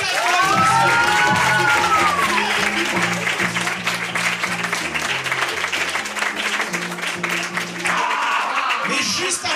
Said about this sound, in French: On peut les applaudir tous les quatre.